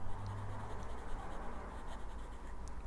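Fine-nib fountain pen writing on paper with Atramentis Midnight Blue ink, a soft continuous scratchy scrawl held at a steady low level close up, with no talking.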